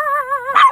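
A puppy gives a single close, high-pitched whining bark, a drawn-out yip that rises into a sharper bark at the end.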